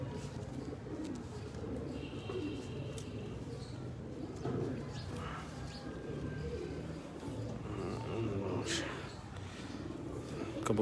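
A champion racing pigeon coos softly at close range in repeated low throaty calls, while someone talks over it and other birds chirp faintly in the background.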